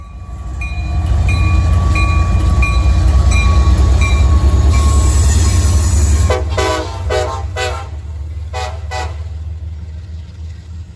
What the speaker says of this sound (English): I caught CSX I-136 at Point of Rocks